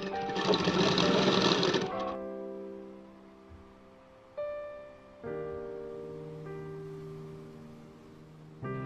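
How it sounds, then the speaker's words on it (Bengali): Sewing machine stitching old denim jeans into a baby skirt: a loud, fast whirring burst for about two seconds, then the motor winds down to quieter tonal humming with brief renewed runs, close and alone. "সমস্তটা আমি এইভাবে চিকন করে সেলাই করে নেব।"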